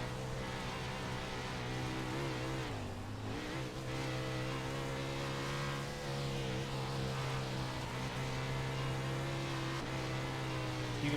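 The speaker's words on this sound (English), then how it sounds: "Listen to that throttle control." A winged 410 sprint car engine at Eldora Speedway screams steadily on throttle, loud and continuous, with brief pitch dips as the driver lifts and a rough, buzzing race-car roar throughout.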